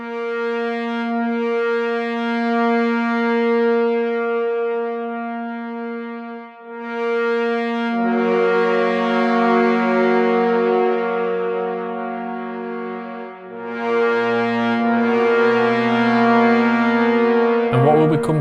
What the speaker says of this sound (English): Tenor trombones, they sound like this.